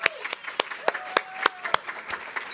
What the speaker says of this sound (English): Yes, let's cheer for Kyla.